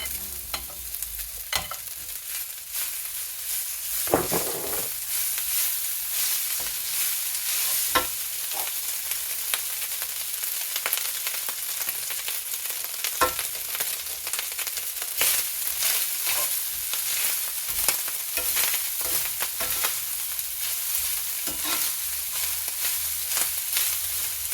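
Rice for Nigerian carrot and cashew nut rice scraped and stirred through a hot oiled pan, a steady broadband sizzle with repeated close scraping strokes and occasional louder clatters, no voices.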